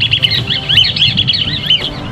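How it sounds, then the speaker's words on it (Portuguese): A recorded bird song is played outdoors in Chapada dos Guimarães to attract a bird, giving loud, repeated high chirping phrases over a low background rumble, with no voices. "O canto, gravado em um dos encontros, serve para atraí-la."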